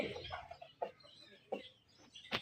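A Java rooster clucks in short, throaty bursts, several calls spaced about a second apart, close and moderately loud with no talking.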